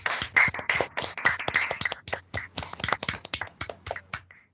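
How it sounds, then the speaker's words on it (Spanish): An audience clapping at a live show, a burst of rapid, fairly close hand claps that thin out and fade over a few seconds, heard alone without talk. "voy a pedir un aplauso preventivo"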